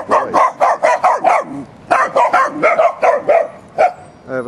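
A dog barks repeatedly in quick bursts, loud and close, with a short pause midway before the barking resumes.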